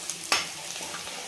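Chopped green chillies are stirred into a sizzling dal tadka. A short scrape of the spoon against the pan stands out above a soft, steady frying hiss.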